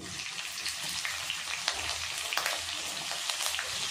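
Bay leaves, whole cumin seeds and green chillies sizzling in hot oil, a steady close crackle with small popping bursts throughout and no talking.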